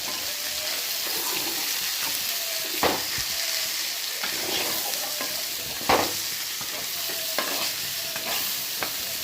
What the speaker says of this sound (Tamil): வெண்டைக்காய் நல்லா வதங்கட்டும்.